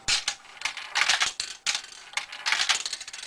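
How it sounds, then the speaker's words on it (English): A few nickels clatter and rattle as they drop into a Mars TRC 6800H coin acceptor, in quick clustered bursts. "I'm going to drop 2 nickels, and I expect these not to be accepted."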